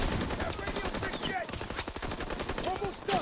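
Heavy gunfire in the Call of Duty WWII video game, dense continuous rattling bursts of rifle and machine-gun fire, loud and steady throughout with scattered shouted voices mixed in.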